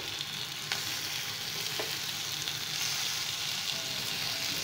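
A dry flat bean dish fries in oil with a constant, dense sizzle close by. Occasional soft stirring scrapes sound through it, and no voices are present.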